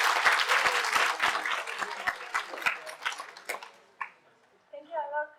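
Audience applause at an AI school ethics session as a speaker is welcomed, dense clapping for about four seconds that tapers off, followed by a brief voice.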